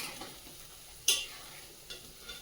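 Bitter gourd fries in a pan with a soft sizzle, broken by a sharp scrape or clink of the stirring utensil about a second in and two fainter knocks after it, with no talking.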